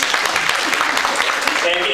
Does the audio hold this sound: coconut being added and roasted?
no